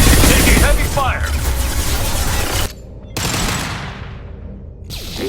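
Heavy sustained gunfire in the Mass Effect 2 video game, loud dense bursts filling the first half, cutting out briefly, then resuming with decaying blasts and reverb tails.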